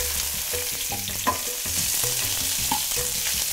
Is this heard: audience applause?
no